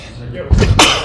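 A single sudden sneeze sounds close by, a quick breathy build-up followed by a sharp, loud burst lasting under a second.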